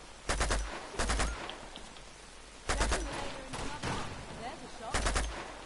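Gunfire in the video game Uncharted 2 during a firefight, with loud close bursts of rapid shots in separate volleys and a voice speaking between them.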